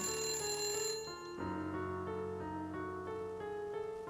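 A telephone rings in the Nancy Drew game Message in a Haunted Mansion, a bright, repeating electronic ring that fades and then starts again, heard alone and at moderate volume.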